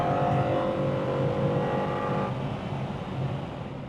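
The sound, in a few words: race car engine on a flying lap at Estoril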